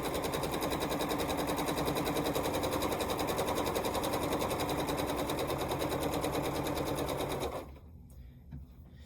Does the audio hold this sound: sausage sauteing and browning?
no